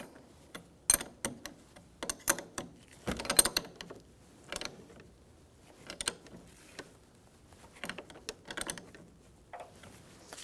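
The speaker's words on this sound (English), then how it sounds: "you're going to have a 1/2 inch or 13mm wrench or socket and snug this up" A 13mm wrench snugging down a battery negative cable terminal on a 1997-2006 Jeep Wrangler 2.4L, heard as close, bursty ratchet clicks in several short runs separated by pauses.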